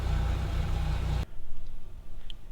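A poorly running VW 1.6 FSI petrol engine with throttle lag idles steadily while warming up toward operating temperature, a continuous close rumble that drops noticeably quieter partway through.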